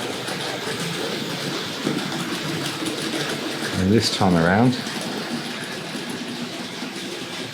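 Hornby R.073 Class 47 "Mammoth" model locomotive hauling freight wagons runs through a model station, a soft steady rolling rumble with a brief louder passing swell, while someone talks over it.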